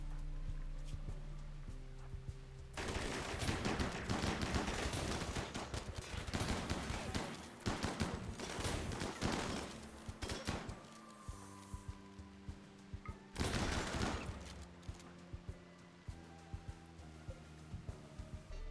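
Chain shotguns fire in the video game Rimworld Odyssey, with rapid, loud bursts of crackling gunfire in several clusters separated by quieter stretches of clicks and game sounds.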